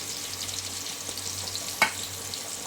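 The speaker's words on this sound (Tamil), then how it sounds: "எல்லாமே சேர்த்து நல்லா வதக்கிக்கலாங்க" Chopped green chilli, curry leaves and crushed garlic sauté in hot oil for a lentil-dumpling kuzhambu, giving a close, steady sizzle with one sharp spatter or utensil tap partway through.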